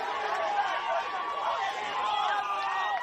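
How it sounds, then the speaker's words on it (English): A vocal crowd at a women's Australian rules football match, Wilston Grange against University of Queensland, a steady wash of distant chatter and cheering voices throughout. "you hear the crowd so vocal"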